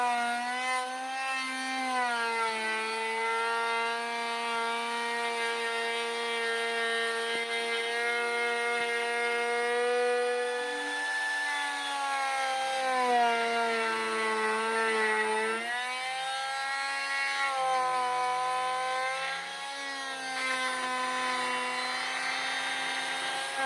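A handheld trimmer router cuts along the edge of a mahogany board, a loud steady high-pitched whine from the motor whose pitch sags and recovers several times as it bites into the wood.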